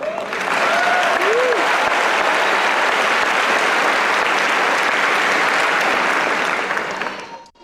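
Sustained applause from a large audience fills a high school graduation ceremony, steady and loud for about seven seconds before fading out at the end, with a brief whistle or cheer near the start.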